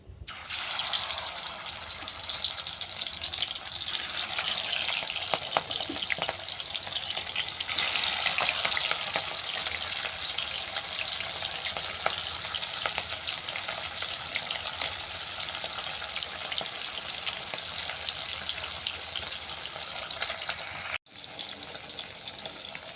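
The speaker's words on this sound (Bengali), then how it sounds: "তেল গরম হয়ে যাওয়ার পর মাছটাকে উল্টো পাল্টে বাদামি করে ভেজে নিচ্ছি" Katla fish pieces fry in hot mustard oil in a kadai, a loud, steady, close sizzle that holds for about twenty seconds with a brief break near the end, no one talking.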